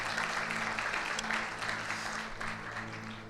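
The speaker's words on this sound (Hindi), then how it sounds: "जोरदार ताली प्रभु यीशु मसीह के लिए" A church audience at a Hindi Good Friday service claps steadily for Jesus Christ, a moderately loud, even wash of applause with a low hum running underneath.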